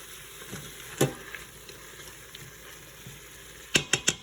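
Steak and freshly pressed garlic cooking in a pan for jambalaya: a low, steady sizzle with a few clinks, then a quick run of four or five scraping, ratcheting sounds from a utensil on the pan near the end.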